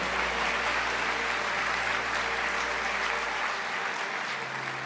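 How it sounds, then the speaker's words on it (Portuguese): A church congregation applauds loudly and continuously, a dense steady wash of clapping with a low hum beneath it. "Pode aplaudir mais forte."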